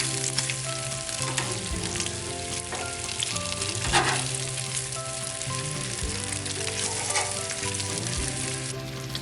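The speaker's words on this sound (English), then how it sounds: "I'm going to get some of this bacon flipped and kind of rearranged on the grill" Thick bacon sizzling on a Blackstone griddle, a loud, constant crackling fry with occasional scrapes and shifts as strips are flipped and rearranged.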